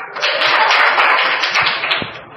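A group of children clap their hands in a classroom, a dense, loud and continuous patter of many palms close by that lasts throughout.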